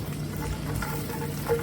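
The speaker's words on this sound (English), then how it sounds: "And you can hear that starting to sizzle right now." Walnut halves and fresh raspberries sizzling in olive oil in a pan, a soft, even frying crackle heard up close with faint stirring noises and no talking.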